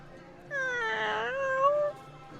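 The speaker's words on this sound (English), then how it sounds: "large orange tabby cat" A large orange tabby cat gives one drawn-out, close meow that rises and then falls, lasting about a second and a half, with no talk around it.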